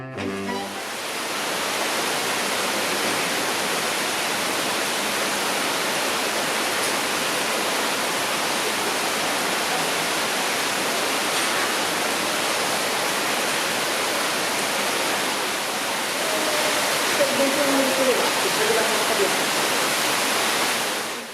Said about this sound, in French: C'est à Fontaine de Vaucluse que naît la rivière Sorgue